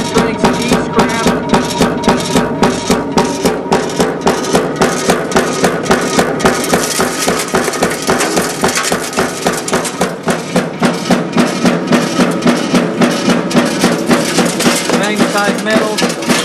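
A magnetic drum separator sorts e-scrap, giving a loud, continuous metallic rattle and clatter of pieces striking metal, with rapid rhythmic impacts throughout and a steady machine hum beneath.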